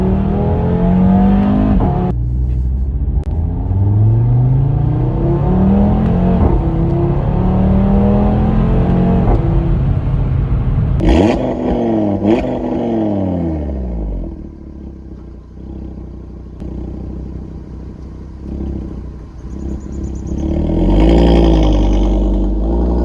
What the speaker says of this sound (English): the mid pipes sound absolutely fantastic on the car.